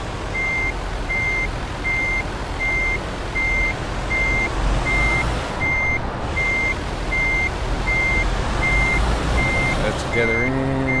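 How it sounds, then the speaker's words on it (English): A truck reverses a trailer into a parking spot in Euro Truck Simulator 2, its reversing alarm beeping in a steady, evenly spaced rhythm over a constant low engine rumble, with a short hiss and shift near the end. "So let's get parking this trailer."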